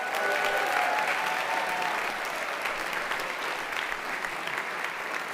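Sustained crowd applause for the coaches at the 2024 LEAFYs awards, a steady dense wash of many hands clapping at even loudness throughout, with no talk over it.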